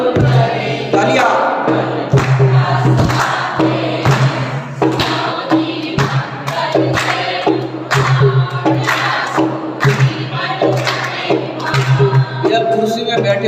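A seated audience at a Hindi religious discourse claps in loud rhythmic bursts, with strong thumps and crowd noise in a repeated pattern.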